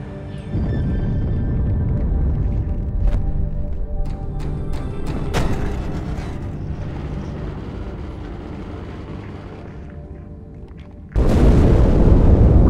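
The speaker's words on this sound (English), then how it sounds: "That explosion came from inside the Athens, same as the Malta." A big explosion aboard a ship in the Halo 2 video game, heard as a long, deep rumbling roar with scattered crackles that fades slowly, then a second loud blast bursts in near the end.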